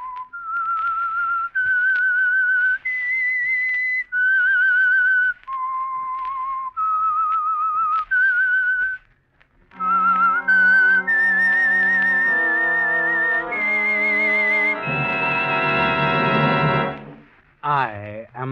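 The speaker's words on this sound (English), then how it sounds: "That whistle is your signal for the Signal Oil Program" The whistled theme of The Whistler, an old-time mystery radio drama sponsored by Signal Oil: a lone, clear melodic whistle in short phrases, followed by a loud orchestral swell carrying the same tune.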